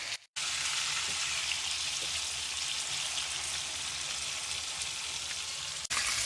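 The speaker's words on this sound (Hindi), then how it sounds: "चिकन को हम तकरीबन 10 मिनट अच्छे तरीके से फ्राई कर लेंगे।" Chicken frying in a pan for Afghani karahi, a steady loud crackling sizzle that runs throughout, broken by a brief gap near the start and a short dip near the end.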